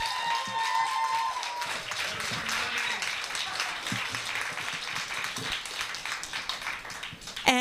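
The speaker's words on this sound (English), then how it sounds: "I know you've been applauding a little bit, but just give this woman some love" Scattered applause from an audience, moderate and steady, with some faint murmuring underneath.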